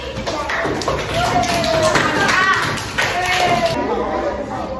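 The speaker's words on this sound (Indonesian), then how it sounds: "Tepuk tangan buat kelompoknya Syawali." Children in a classroom clap for a student group, a loose patter of hand claps and taps mixed with kids' chatter and shuffling throughout.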